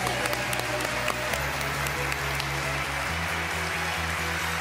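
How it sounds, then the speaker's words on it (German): A television studio audience claps steadily and densely in sustained applause after a singer's performance with an orchestra, with background music continuing beneath it. "Das ist Ihr Applaus."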